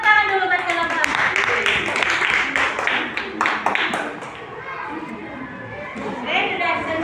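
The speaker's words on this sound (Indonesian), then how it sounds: "silakan tepuk tangan dulu buat kelompok 4" A classroom of students claps for a presenting group, a burst of scattered applause that fades while children talk and chatter.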